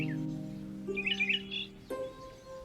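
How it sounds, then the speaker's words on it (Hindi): Birds squawk and chirp in short bursts over a steady low tonal drone, with a cluster of bright calls in the middle and another sharp call near the end. "जब मैं इन पंछियों की आवाज सुनता हूं"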